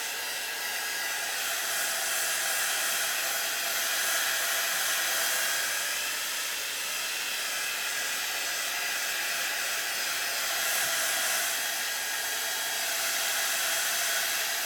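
A dryer runs continuously for the whole stretch, giving a steady, fairly loud airy whoosh with a gentle swell and fade in its roar and no talking over it.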